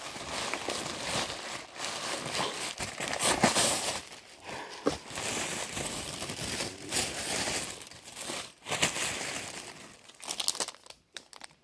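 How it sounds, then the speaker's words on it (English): Close, continuous crinkling and crumpling of plastic and paper mail packaging, with irregular rustling bursts and short pauses, heard alone without talk. "Sorry for the crinkling."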